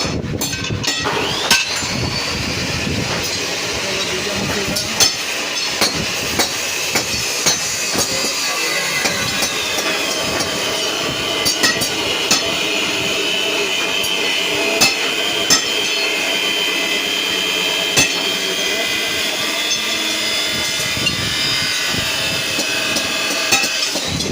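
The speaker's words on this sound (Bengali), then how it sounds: "অ্যাঙ্গেল কাটা হচ্ছে, কাটার মেশিন।" A cutting machine slicing through steel angle in a grille workshop: a continuous high metallic grinding whine with scattered clanks and knocks throughout, loud and close.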